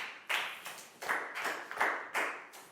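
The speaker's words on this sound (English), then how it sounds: "Big round of applause for Net," A Year 4 class of students claps for a classmate in a classroom. The claps come as a handful of sharp, uneven bursts, each ringing briefly in the room.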